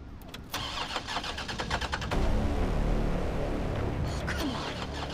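A car engine in Resident Evil 3 cranks with a quick starter whirr, catches, and settles into a rough idle, with another burst of cranking near the end.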